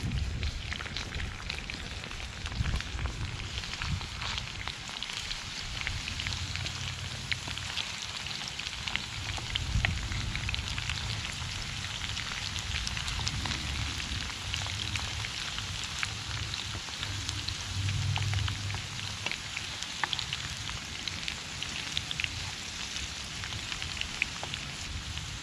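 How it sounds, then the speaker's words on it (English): A Trangia stove's flame roars steadily under a Trangia frypan as chips and bread slices fry, a continuous broadband rushing hiss with faint crackling sizzle throughout, close and even in level, with no talk. "That flame's blowing. I can hear it."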